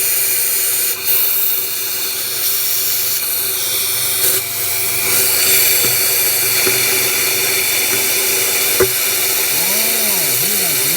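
A shop vacuum sucks debris out of a part, giving a steady high whine with intermittent clicks and rattles as rocks are pulled through the hose, heard alone.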